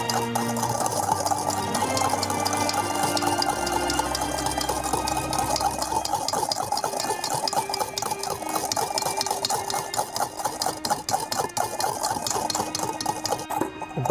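A spoon stirs sugar into a mixture until it dissolves while preparing a rava plum cake. Steady scraping and rattling continues throughout, loud and close, with no talking.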